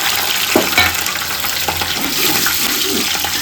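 Onions, green chillies and biryani masala frying in a pan, a steady close sizzle with soft stirring scrapes throughout.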